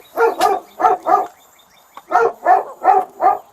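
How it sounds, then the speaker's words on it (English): A dog barks close by in two bursts of loud, rhythmic barks, four in the first run and four more after a short pause, with no talking over them. "But the dog is right here."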